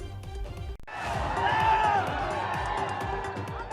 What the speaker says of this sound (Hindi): हजारों की भीड़ गाड़ी को घेरकर गुस्सा उतार रही है।